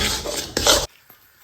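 Raw turmeric barfi mixture is stirred in a pan, giving two loud, rasping scrapes of the spoon against the metal close by, then near silence with one faint knock.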